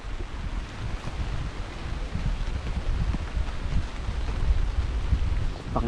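Gusty wind ahead of Typhoon Kristine in the Philippines buffets the microphone with low rumbling surges, steady and close, rising and falling over a constant outdoor roar.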